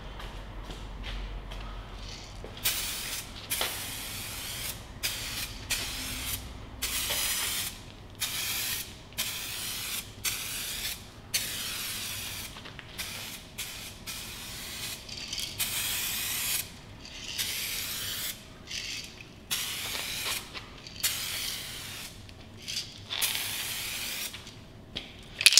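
Aerosol spray paint on a chassis part of an old Volvo sounds in repeated short hissing bursts of a few seconds each, separated by brief pauses, close to the listener and without talk.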